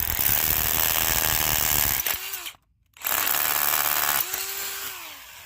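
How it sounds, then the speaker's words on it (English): A loud power drill with a long bit whines steadily drilling through a block, cuts out briefly into silence, then grinds on again with a rising pitch as the bit works through. "All the way through with a long drill bit, so it ends up in the same spot on the other side."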